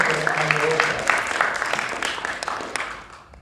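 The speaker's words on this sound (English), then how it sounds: "give him a big round of applause." Applause from an audience at a Toastmasters meeting, a steady wash of many hands clapping that tapers off toward the end, with some voices mixed in.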